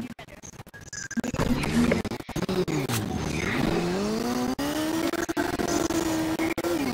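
A car in the Fortnite video game drives hard, its engine droning and rising and falling in pitch continuously, with sharp clicks and bursts of game effects over it and no clear talk.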